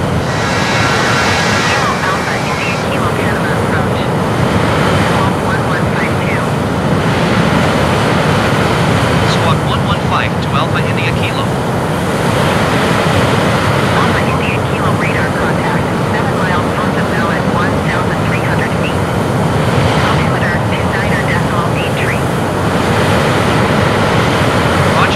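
A light A10 aircraft flies over the jungle near Boquete, its engine a steady, loud, continuous drone in the cabin with muffled radio voices coming and going over it.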